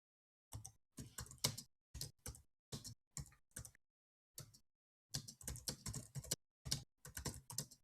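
Computer keyboard keys clatter in quick bursts of typing at a terminal, with short pauses between runs of keystrokes, close and clear with no voices.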